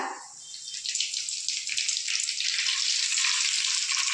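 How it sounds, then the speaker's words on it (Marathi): Cumin seeds sizzle in hot oil in a kadhai for a Maharashtrian varan bhat tempering. A loud, steady crackling hiss swells within the first half second and continues unbroken, with no talking. "तेल गरम झालं की त्यामध्ये जिरे टाकून घेतले"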